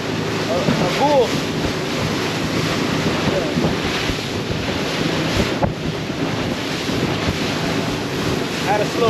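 Small boat pounding over rough ocean water in the Florida Keys, a constant loud roar of engine, hull slap and spray with heavy wind buffeting the microphone throughout.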